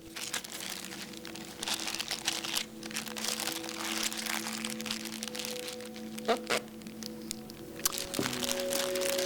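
Plastic bag being handled, crinkling and crackling for several seconds with a few sharper crackles, close by over a steady low hum.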